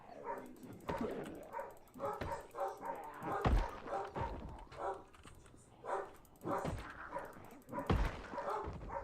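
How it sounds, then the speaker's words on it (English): Dogs bark and yip repeatedly at moderate distance downstairs in the video game Project Zomboid, a busy mix of barks and whimpers with some muffled voices in the background. "now we can hear all of the barking that's going on downstairs"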